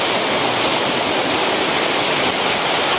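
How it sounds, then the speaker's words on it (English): A waterfall in the butterfly and bird garden at Ramoji Film City roars steadily, a dense, loud, unbroken rush of falling water heard up close with no voices. "So this is an amazing waterfall."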